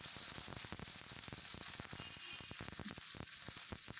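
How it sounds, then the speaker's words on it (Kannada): Capsicum shallow-fries in a small amount of oil, a steady close sizzle with crackling pops and spits running throughout. "ಈಗ ಹಾಕೋದ್ರಿಂದ ಕಡಿಮೆ ಎಣ್ಣೆಯಾಗ ಇದು ಫ್ರೈ ಮಾಡಿದಂಗೆ ಆಗ್ತೈತೆ ರೀ. Shallow fry"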